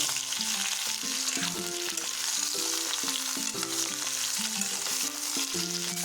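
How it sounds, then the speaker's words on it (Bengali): Carrots, potatoes and papaya sizzle in a kadai as they are stirred, a steady, quiet frying hiss running under a soft melodic tune. "এবার আমরা এগুলোকে পাঁচ মিনিট মতো নেড়ে নেবো"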